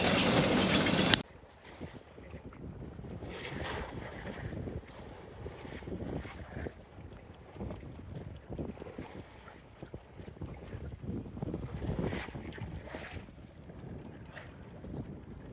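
A sailboat pounds through rough seas in strong wind between the Balearics and Sardinia, with rushing wind buffeting the microphone and repeated hull smashes and water splashes, no talk.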